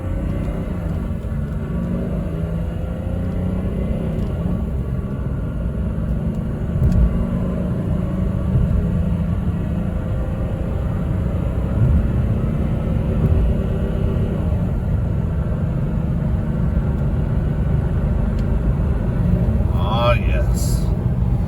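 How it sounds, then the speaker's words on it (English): A 1997 Mercedes E300 diesel in winter mode accelerating from a standstill toward 60 mph, heard from inside as a steady, loud low engine drone and road rumble that slowly builds, with someone talking over it. "Thought I'd do a little 0 to 60 run in the 97 E300 diesel."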